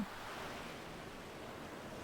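Beach ambience at Wing Beach on the north side of Saipan: a faint, even wash of surf and breeze that holds steady and sounds distant, with no voices.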